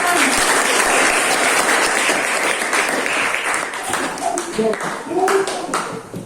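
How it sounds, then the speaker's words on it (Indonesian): Junior high students in a classroom clapping for a group that has just presented, a busy, fairly loud spread of hand claps with some voices and shouts mixed in, tapering off toward the end. "Berikan aplaus dulu, tepuk tangan."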